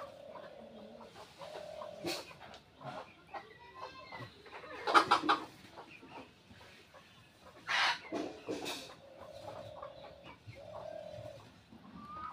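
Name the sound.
chickens clucking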